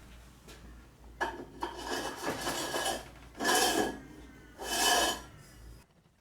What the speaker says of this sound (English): Here I am drilling 13mm diameter holes through which lock bolts will pass